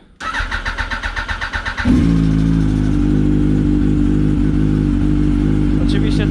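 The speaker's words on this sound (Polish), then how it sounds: "z tamtej R1 przełożymy te oryginalne wydechy do R1 Martyny" An R1 sport motorcycle engine with its silencers removed cranks with a rhythmic starter whir, then fires and settles into a loud, steady idle close by.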